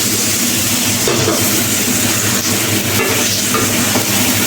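Vegetables are stir-fried in a pan, producing a loud, dense, continuous hiss and rattle with steady scraping texture throughout and no talking.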